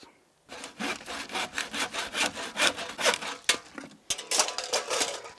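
Steady back-and-forth hand sawing through a tree branch, rhythmic rasping strokes close up, with a brief pause before the strokes resume.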